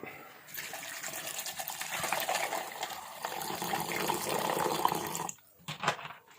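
Fizzing soda poured steadily over ginger and ice in a glass for a ginger, honey and green mango drink, a continuous close hiss lasting about five seconds before stopping, followed by a couple of faint knocks.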